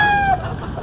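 A short, loud call from a stag (young fighting rooster) cut off abruptly, followed by a brief noisy tail, at a roadside rooster market.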